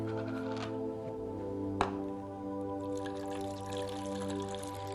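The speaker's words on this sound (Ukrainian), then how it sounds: "Наливаємо молоко до відповідної позначки." Milk is poured into the inner container of a 1-litre yogurt maker, making a faint, steady liquid trickle with a few soft drips over a low background hum.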